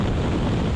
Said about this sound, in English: wind's hitting hard now